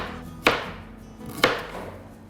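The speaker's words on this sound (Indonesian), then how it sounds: "Saya akan merajang dulu bawang merahnya." A knife chops through shallots on a cutting board while sambal is being prepared for fried chicken, giving two sharp, close, loud strikes about a second apart with quiet pauses between them.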